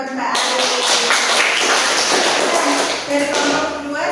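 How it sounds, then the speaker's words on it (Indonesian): Classroom applause during a tenth-grade Islamic jurisprudence lesson on qurban worship: steady broadband clapping from a group of students fills the room, close and continuous, with some taps and shuffles and a voice underneath. "Tepuk tangan buat Mbak Arif."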